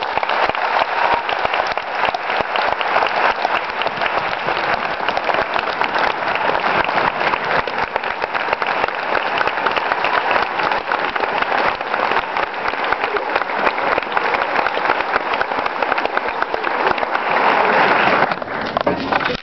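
A lecture audience gives sustained, loud applause to welcome Professor Angela Davis at Georgia Southern University, a steady wash of clapping hands that runs unbroken for the whole stretch.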